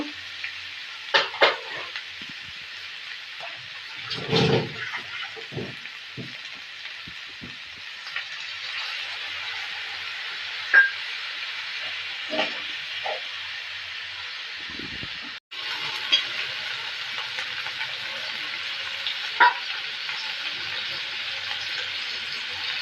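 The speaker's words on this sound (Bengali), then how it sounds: "মশলাটাকে সুন্দর মতো কষিয়ে নেব" Cashew-paste spice masala for a country chicken dish stir-fried in a pan, with a steady close sizzle throughout and scraping stirs of the spatula, strongest early on, and no talking.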